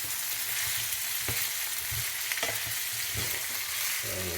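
Zucchini sizzles steadily while being stir-fried in a pan for spring pasta, a constant close frying hiss broken by occasional soft scrapes and clacks of stirring.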